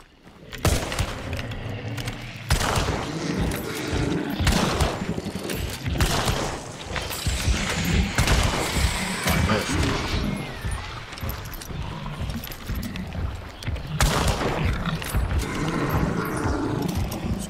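Dense, loud barrage of gunfire and roaring game effects in the video game Hunt: Showdown, sustained bursts filling the scene with little letup.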